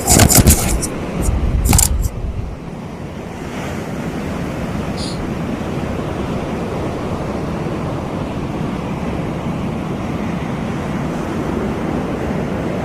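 Sea waves wash onto a sunny beach in Saudi Arabia as a steady, moderate surf hiss that continues throughout, following a brief burst of louder wind-like rustling and knocking at the start.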